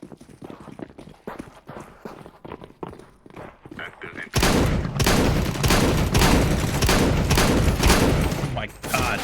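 An XM1014 shotgun in Counter-Strike fires in heavy, loud blasts that begin abruptly midway and continue in a rapid, dense barrage, after softer scattered thumps and footsteps.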